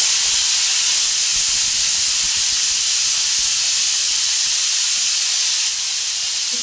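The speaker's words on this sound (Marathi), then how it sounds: "वरण भाताचा कुकर पण लावलेला आहे. त्यासोबतच खायला त्याची शिट्ट्या पण होत आहे." A pressure cooker of dal and rice whistling, a loud continuous steam hiss held steady throughout and dropping slightly near the end.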